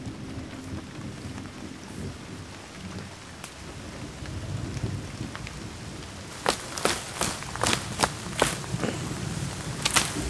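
Rain falls steadily outdoors at night in the wilderness, a constant close patter with a few sharp drip or impact clicks toward the end and no talk.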